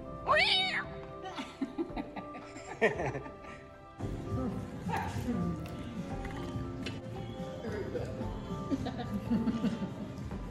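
A cat meows on a lakeside vacation. A few rising, high-pitched cries sound fairly close at first, then thicker background noise and chatter take over.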